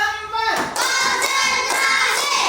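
Classroom of primary school students clapping together in a counted rhythm, sharp bright claps landing in a few loud bursts close by, with chanting voices over them.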